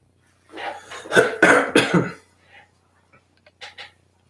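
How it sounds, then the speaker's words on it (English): A burst of several harsh, close coughs in quick succession, followed by a few softer, isolated coughs after a pause. "so that's why I'm coughing"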